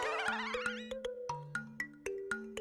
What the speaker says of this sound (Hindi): टप्पू के मोबाइल की रिंगटोन भी सुनी थी।